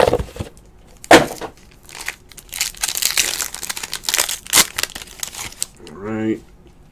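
Plastic packaging on a case of 2017 Panini Court Kings basketball cards is cut and torn open, with crinkling, crackling bursts and sharp rips in a close, uneven rhythm, and a person talks briefly.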